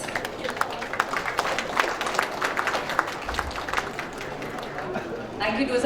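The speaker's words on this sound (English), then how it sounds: "Let's give them a big round of applause." Audience applause at a business event on stage, broad steady clapping from a crowd filling the whole stretch, with a livelier swell near the end and some background chatter.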